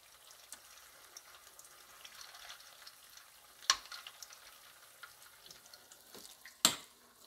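Potato, egg and onion patties cook slowly in a pan with a soft, low frying hiss. Two sharper clicks or scrapes cut through, and the whole sound is faint and quiet, with no voices.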